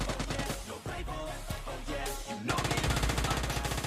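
Automatic gunfire in the video game PUBG Lite comes in rapid bursts of closely spaced shots. It starts as a sparser volley, then a dense, loud, continuous burst cuts in.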